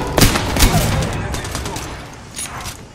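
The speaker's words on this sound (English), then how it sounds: "Opening fire." Gunfire erupts in an Apex Legends firefight, with a few sharp shots near the start followed by a softer burst toward the end, set against the game's busy background noise.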